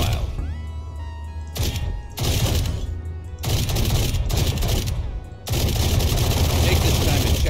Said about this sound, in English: Let's try out some different guns on these targets.